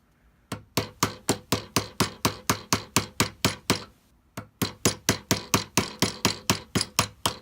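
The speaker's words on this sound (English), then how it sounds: "So you put your punch on there and just hammer it out." Steady metallic hammer blows striking a punch to drive out a Glock 34 pistol sight, about two per second, close and loud, with a brief pause midway before the rhythmic tapping resumes.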